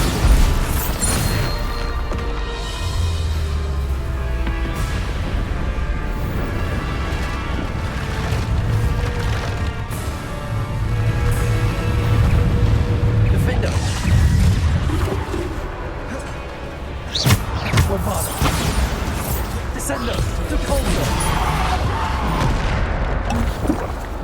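Bombarda spell blasts boom repeatedly in Hogwarts Legacy combat, heavy bursts and crashes amid a busy, loud battle with a voice talking throughout.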